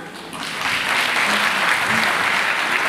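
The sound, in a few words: audience applause for dancers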